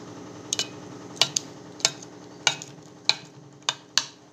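Semolina dhokla batter with salt is stirred in a bowl, making regular, close clicks of the spoon against the rim, roughly one every half second, over a quiet wet swishing.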